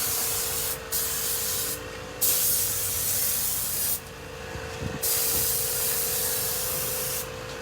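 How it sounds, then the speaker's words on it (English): Glue sprayed with an airbrush onto carbon fiber trim, heard as bursts of hiss that start and stop several times over a constant low machine hum. "it looks like they're laying the glue, right?"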